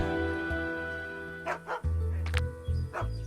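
Inside the Agatha Christie game Dead Man's Folly, a dog lets out a few short barks and yips over steady background music.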